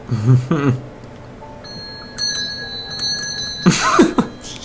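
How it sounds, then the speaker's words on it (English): A bell is rung hard several times, bright metallic strikes ringing out between bursts of coughing or throat clearing and brief voice sounds. "You're whipping the shit out of that bell."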